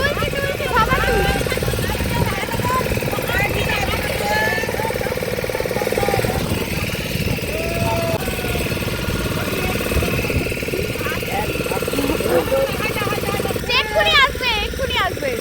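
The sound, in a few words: boat engine on Chilika lake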